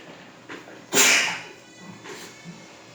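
A single sharp, close sneeze bursts out, followed by quiet breathing and faint background noise.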